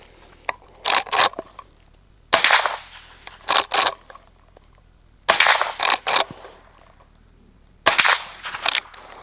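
Repeated shots from a .45 caliber pistol with a suppressor, fired in quick strings of three or four, muffled cracks with short pauses between bursts, loud and close.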